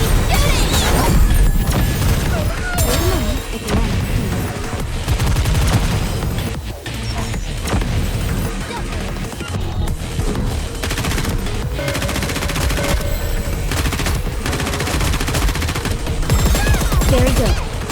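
Dense, continuous gunfire from a mobile shooter game, Nikke: Goddess of Victory, with sustained automatic bursts and impacts over a busy game soundtrack, loud throughout with little pause.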